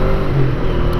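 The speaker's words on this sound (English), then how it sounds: "So this bike is just very free revving." Honda Ascot motorcycle engine on a winter ride, a loud continuous engine drone held near steady revs for a second, with a brief rising pitch in the middle.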